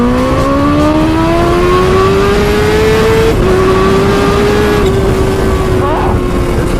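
A Kawasaki Ninja H2 motorcycle accelerates hard, its loud, close engine whine climbing steadily in pitch with a shift partway through, roaring continuously the whole time.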